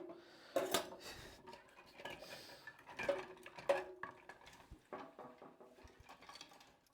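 Metal knives and a tiny whisk clatter and clink against each other in a soaking dish of water, a run of close, irregular rattles and taps, fairly quiet overall.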